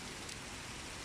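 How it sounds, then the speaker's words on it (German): Heavy rain from a passing cold front near Roth, Germany, a continuous broadband hiss of downpour with no break or change in intensity. "bei lokalen Starkregenereignissen, wie jetzt eigentlich auch schon hier"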